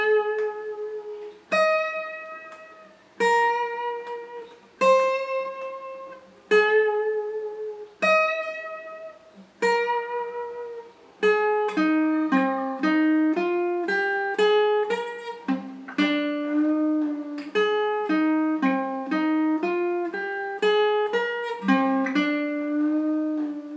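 A slow guitar fill from a song is played note by note. It opens with a few spaced, ringing plucked notes, then moves into a faster run of picked notes. The guitar is close, clear and alone.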